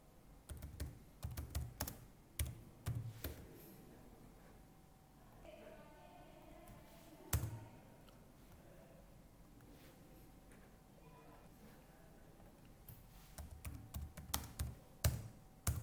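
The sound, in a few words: typing on a computer keyboard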